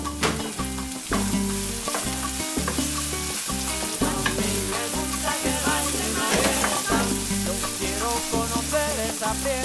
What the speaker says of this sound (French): On va laisser cuire un petit moment nos poivrons et tomates.